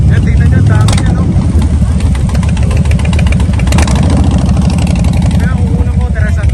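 Several Harley-Davidson motorcycles idle and rumble loudly together at a riders' gathering in Milan, a dense, continuous engine roar with occasional revs, while people talk nearby.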